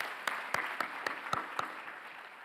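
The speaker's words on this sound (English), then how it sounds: "Let's give Sydney another round of applause for those challenging words." Scattered, sparse clapping from a graduation ceremony audience, a handful of distinct sharp claps spaced irregularly and fairly faint, with no talking.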